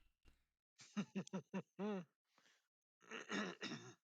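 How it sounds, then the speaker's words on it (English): A man clears his throat in a few short, gravelly bursts, then gives a longer rasping hum and a breathy exhale, close and fairly loud. "clearing his throat right here"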